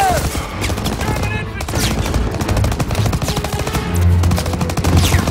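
Sustained automatic gunfire from a World War II battle in the Call of Duty WW2 campaign, loud bursts of machine gun fire with scattered single shots over rumbling battlefield noise, carrying on throughout.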